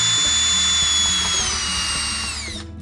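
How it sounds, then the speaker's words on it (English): A power drill with a Phillips screw bit whines steadily at close range, removing the screws of an electrical outlet, its motor pitch holding high before spinning down and stopping near the end. "I removed the outlet's Phillips screws with my electric drill and a Phillips head screw bit."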